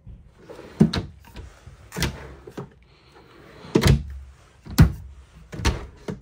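Drawers sliding open and shut in a 2024 Flagstaff Microlite 22FBS travel trailer, several close thunks and rolling scrapes at irregular intervals, fairly loud, with no talking.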